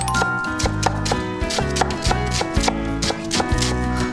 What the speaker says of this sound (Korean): 저는 이렇게 썰 때 도마에서 나는 소리가 네. 참 좋은 것 같아요.